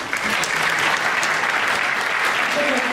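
Sustained applause from an audience at a Japanese golf brand's 2014 new team announcement event, dense steady clapping throughout, with a faint voice beneath.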